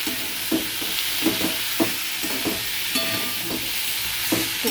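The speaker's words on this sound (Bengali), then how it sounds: "এবার আমি এটাকে ভালো করে মিশিয়ে ভেজে নেব।" Ridge gourd and egg sizzle in a pan while being mixed, with a steady frying hiss broken by regular scraping strokes of a spatula, close and fairly loud.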